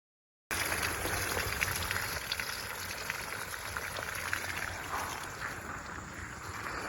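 Steady rushing spray of water from a hose, continuous and fairly close, with a soft hiss throughout and no talking.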